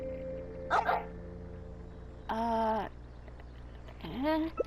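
A few short dog barks and yips in Genshin Impact, three separate bursts spread across the moment, set over a steady low game hum with a voice speaking in between.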